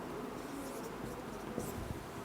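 Pen scratching out the Greek symbol phi by hand, a short, soft run of faint strokes and scrapes across about two seconds.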